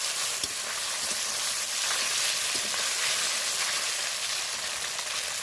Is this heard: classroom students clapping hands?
no